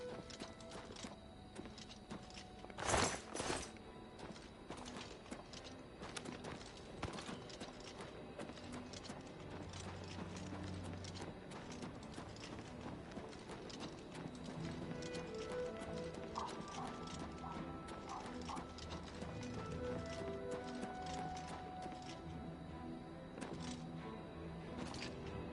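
Horse hooves clip-clop at a steady walking rhythm through the Oblivion Remastered game world, with gear and ambient clatter around them and one brief louder burst early on.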